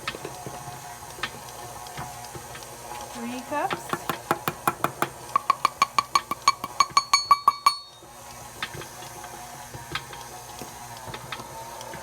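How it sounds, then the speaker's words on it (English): An electric mixer labors through a thick mix, its motor giving a run of rhythmic, fast knocking pulses that build and then stop abruptly, with a person speaking over it. "You can hear the mixer getting kind of tired of this."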